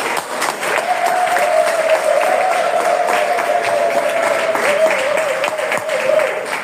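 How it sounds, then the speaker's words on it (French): Audience at a spiritual retreat applauding steadily, dense clapping that fills the space evenly for several seconds with a sustained hum or tone running underneath. "La qualité de vos applaudissements traduit."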